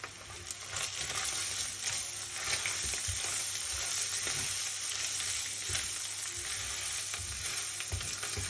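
Meat and mushrooms fry in a pot with a steady crackling sizzle, while a utensil stirs them in repeated scraping strokes. It is close and constant, with no speech.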